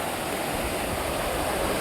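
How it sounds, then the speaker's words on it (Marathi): Steady broadband rush of fast-flowing river water at night, loud and close, with no pauses. "पाणी कसं येतं जोरात बघ पाणी बघ"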